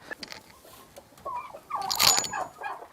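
Chickens on a small farm flock of hens and roosters cluck in short, close bursts, quiet at first and then a louder cluster of calls near the end.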